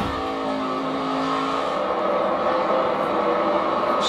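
A NASCAR race car at the 2015 Toyota/Save Mart 350 roars at full throttle out of a turn, its engine note climbing loud and close in a sustained, rising blare.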